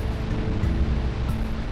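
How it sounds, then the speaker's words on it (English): A waterfall roars in the video game Jak and Daxter: The Precursor Legacy, a dense, steady rushing wash of falling water, loud and continuous with no talking. "So let's go under the waterfall."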